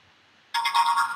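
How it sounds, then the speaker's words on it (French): A programmable robot brick beeps after compiling a program: a bright electronic chirping melody bursts in over a faint steady hum and continues briefly. "La brique me fait un petit signal sonore."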